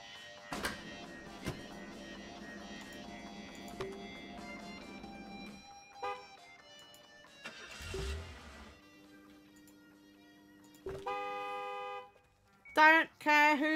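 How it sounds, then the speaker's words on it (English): A car horn honks a few times in quick succession near the end in Gas Station Simulator, sharp and fairly loud after a stretch of quieter game music and ambience. "Don't care who's honking"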